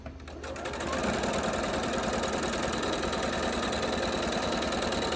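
A sewing machine runs steadily while stitching quilt blocks, its fast mechanical needle chatter holding an even buzzing rhythm for the whole stretch after a brief start-up, close and continuous.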